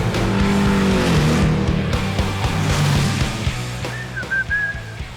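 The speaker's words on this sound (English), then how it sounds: "To compensate for the Merc's lack of power, Sherman Stig was on maximum attack." A Mercedes is driven hard around a large race track, its engine roaring and shifting up and down close by, with whistling tyre squeal near the end.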